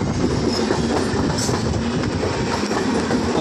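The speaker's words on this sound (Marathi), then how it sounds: "अशा ना फास्ट गाड्या अशा जात होत्या" A fast local train rushes past, loud and close, with a continuous roar and the rhythmic clickety-clack of its wheels on the rails.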